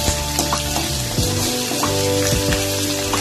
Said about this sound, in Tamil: நல்லா வதக்கி விட்டுறலாம் எல்லாத்தையும்.